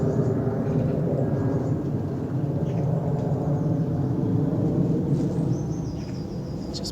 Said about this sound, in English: pausing as that plane goes overhead